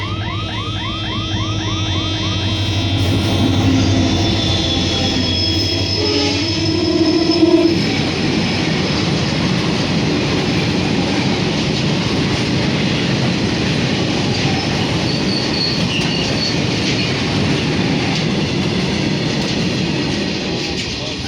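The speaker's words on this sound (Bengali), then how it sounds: "মেয়েটা একটু ট্রেন দেখে আনন্দ পাবে" A train passes close by, opening with a loud horn-like tone that gives way to a heavy, continuous rumble and clatter of wheels on rails that stays strong to the end.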